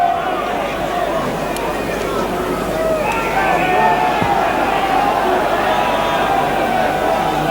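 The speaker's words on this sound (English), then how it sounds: "there's a good crowd here this afternoon at Headingley" Rugby league crowd at Headingley, Leeds against Wakefield, a steady murmur of spectators filling the ground at an even, distant level with no break.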